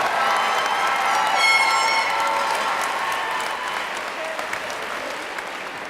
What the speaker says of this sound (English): let's join me in one more round of applause for all of our great staff members tonight